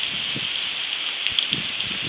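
Steady rain falling in Southern Leyte during the rainy season, a continuous dense hiss of drops with a few louder close patters on a surface.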